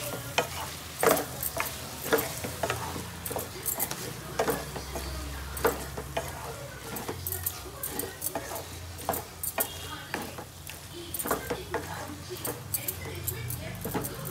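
Chilli chicken fries with masala in a pan, a continuous sizzle punctuated by frequent sharp stirring clacks of a spoon, while a voice talks at times.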